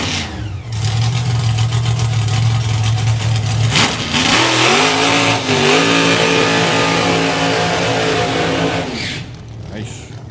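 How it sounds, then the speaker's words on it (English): A drag racing car does a straight burnout at the FIA European Finals 2024, its engine roaring loudly and steadily for about nine seconds, the pitch climbing partway through, before fading into crowd and track ambience. "Nice straight burnout."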